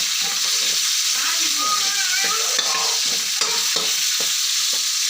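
Bottle gourd and onion sautéing in a pan for a Tamil kuzhambu, a constant loud sizzle with spoon scraping and stirring clatter, while a voice talks intermittently underneath.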